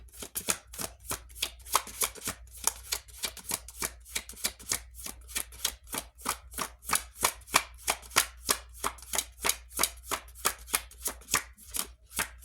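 A deck of tarot cards is shuffled close up, with a long series of quick, crisp riffling flutters repeating in a steady rhythm for the whole stretch.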